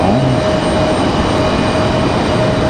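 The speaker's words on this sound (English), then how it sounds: "Got an American 737 out at the end of the runway ready to go." Steady, loud engine roar of an American Airlines Boeing 737 holding at the end of the runway at Raleigh-Durham International, a continuous broadband rumble with a faint whine, no voices.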